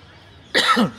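A single sharp, close cough breaks a quiet background, lasting just under half a second.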